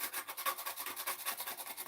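Sanding an upcycled wooden crate by hand, a steady rhythmic rasping of strokes back and forth, about ten passes in under two seconds, fairly quiet and close with no talking.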